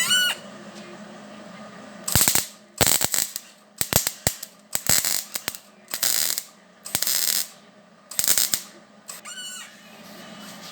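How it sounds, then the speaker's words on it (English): Buffing a weld on an old thin steel door comes through as repeated loud grinding bursts, each lasting a fraction of a second to a second, with short gaps between them and a steady low hum running underneath. "Just buff it up there."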